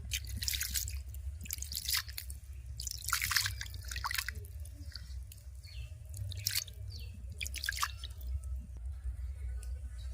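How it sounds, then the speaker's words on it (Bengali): Water poured by hand into a spiced fish and potato dish in a home kitchen, giving soft intermittent splashes and wet trickles close up over a steady low hum. "এবার পরিমাণ মতো জল দিয়ে দেব"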